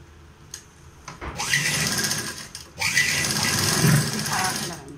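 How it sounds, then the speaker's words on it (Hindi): Sewing machine stitching the straps of a homemade safety mask, running in two steady buzzing bursts of rapid needle chatter after a brief quiet start, with faint talk alongside. "दोनों पट्टियों को इसी तरह से हम सिल लेंगे।"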